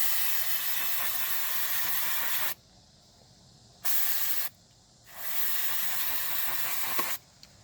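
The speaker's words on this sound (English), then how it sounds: "Just spray some carb cleaner in here." Steady loud hiss of an aerosol carb cleaner can spraying into a Honda VTX 1800 motorcycle shifter in long bursts, broken by short pauses, then a shorter spurt and a final long spray.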